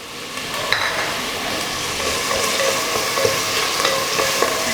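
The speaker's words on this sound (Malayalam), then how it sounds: "നന്നായിട്ടൊന്ന് വഴറ്റി കൊടുക്കുക" Sliced onion and green chili sautéed in a hot pan, a loud continuous sizzle with occasional spatula scrapes and light clinks, close and with no talking.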